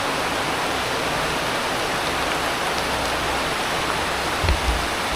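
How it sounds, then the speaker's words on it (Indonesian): Steady rain pours down at an outdoor spot beside a sacred spring and an old revered tree, a dense continuous hiss close by, with a brief low thump near the end. "hujan."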